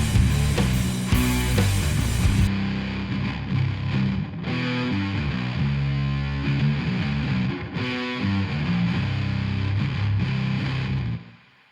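Two stereo fuzz guitars, one through a GimpFX-modified IC Big Muff Pi and one through a Fredric Effects Big Muff, play a loud, dense, sustained riff with brief gaps between phrases.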